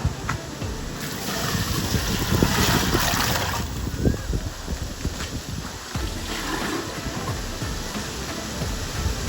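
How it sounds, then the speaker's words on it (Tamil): Several jugs of water poured steadily onto rice in a large pot, a continuous splashing, gushing rush lasting throughout, fairly close and loud, with some noisy background. "3 ஜக்குக்கு வந்து 5 ஜக்கு தண்ணி ஊற்றுங்க"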